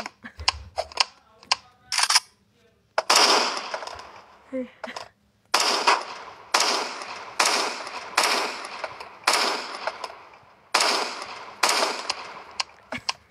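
Gunfire from a weapon in the Roblox game Brookhaven, during its war update, comes as a string of sharp, loud, evenly spaced shots, with lighter clicks and short bursts scattered between them.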